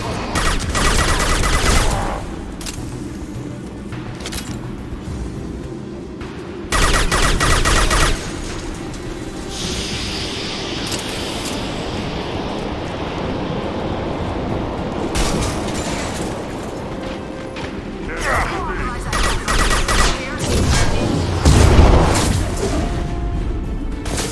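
Gunfire from the video game Mass Effect 2 rattles in dense, heavy bursts and booming impacts over a continuous rumble of combat noise, loud and close throughout.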